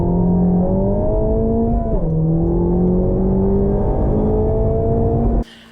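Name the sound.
2023 Honda Civic Type R engine revving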